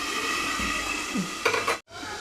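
Onion-tomato paste for a drumstick curry is stirred in a pan, with a spoon scraping in short strokes over a soft sizzle before a brief drop to silence.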